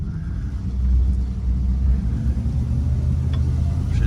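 A 1970 Ford Fairlane ZC V8 with a freshly rebuilt carburettor drives along, its engine giving a steady, loud low rumble that holds even throughout with no talk over it.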